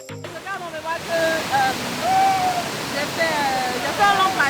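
Waves break and wash over rocks, a loud continuous rushing surf that swells and falls, with a voice talking over it.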